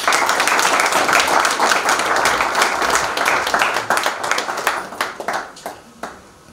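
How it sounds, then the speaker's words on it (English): An audience claps together at a school event, a dense sustained wash of applause that holds steady and loud for several seconds, then thins into scattered separate claps and fades near the end. "let's see how you guys can clap"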